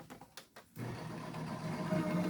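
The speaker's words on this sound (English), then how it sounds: "I'm going to run that through the machine now" A die-cutting machine runs card stock through with a soft, steady mechanical whir and hum. The sound starts after a few faint knocks and stays level and fairly quiet.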